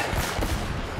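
Heavy gunfire from a hand cannon in the video game Uncharted: Drake's Fortune, dense rumbling shots packed close together and loud throughout, with no speech.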